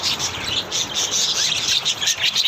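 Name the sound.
birds chirping on a windy morning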